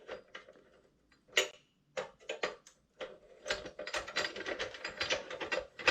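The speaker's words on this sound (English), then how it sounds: "where you use this wrench" A wrench ratchets and clicks against the clamping device of a wheel boot lock, irregular quick mechanical ticks and metallic clatter, close and moderately loud, growing busier toward the end.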